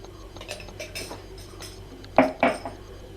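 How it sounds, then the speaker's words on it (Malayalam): Metal spoon stirring ash gourd curd curry (kumbalanga moru curry) in a pot, heard as two sharp, close scraping clinks against the pot over a quiet kitchen background. "ഇളക്കി കൊടുക്കുക."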